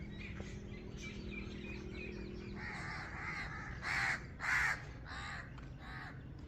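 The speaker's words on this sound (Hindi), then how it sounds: "आज परिंदे बहुत ज़्यादा चहचहा रहे हैं।" Crows caw in a banyan tree in a village on a sunny morning, with several loud, harsh caws in the second half following quieter bird chatter and a low hum.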